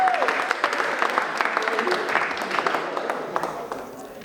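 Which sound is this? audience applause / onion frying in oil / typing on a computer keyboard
audience applause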